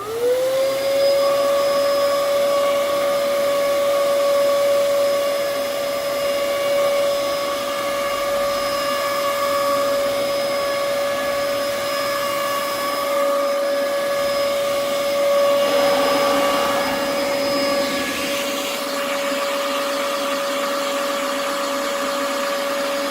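A 2005 Dyson DC07 Animal vacuum cleaner runs continuously with a worn, rough-sounding motor, a loud steady whine with a strong tonal pitch that dips and wavers near the end, close and without talk.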